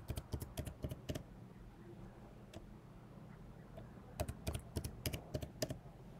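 A password being typed on a Mac keyboard while setting up a new user account: quick bursts of soft, close key clicks, a short run at the start, a pause, then another cluster, quiet and free of talk.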